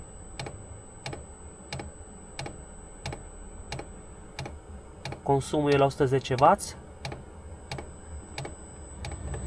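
Steady, evenly spaced ticking clicks of a diesel heater fuel pump in an Opel Vivaro repeat throughout, with a low hum underneath and a short burst of speech near the middle.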